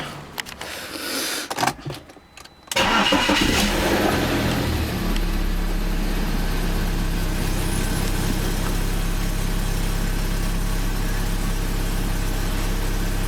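A BMW 318i engine, after a Vanos motor replacement, cranks over with a few rough bursts, catches, and settles into a steady, low idle that hums on without change.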